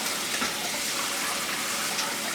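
Running water rushes and splashes steadily while polished Lake Superior agates are washed, a continuous close gushing wash with no clear voices.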